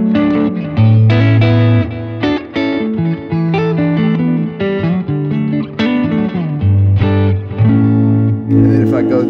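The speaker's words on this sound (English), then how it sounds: "Could also use it with a little bit of" A 1954 Fender Stratocaster with distortion plays chords and riffs, loud and sustained with a thick, saturated tone and brief pauses between phrases.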